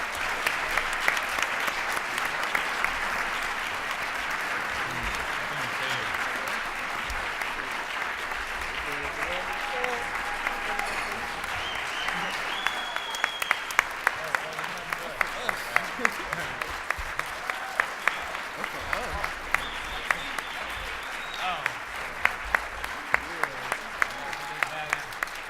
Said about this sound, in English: Let's give the boys another round of applause